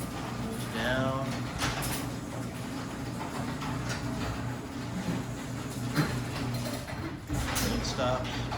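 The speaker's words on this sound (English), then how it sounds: "close the garage door." A 1990s Genie ProMax garage door opener drives the door closed with a steady mechanical hum and motor drone, sustained throughout with a few clunks and a person talking over it.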